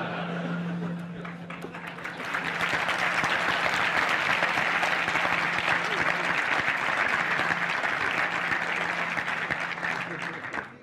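A lecture audience breaks into sustained, dense applause lasting around ten seconds, steady and loud throughout, with a faint voice underneath at the start.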